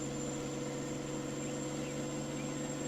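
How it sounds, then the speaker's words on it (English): Vehicle engines idling in the video game Farming Simulator 19 on the Bulls Gap map, a steady low hum with a constant tonal whine, running evenly and alone with no talk over it. "sound of those engines is really, really authentic"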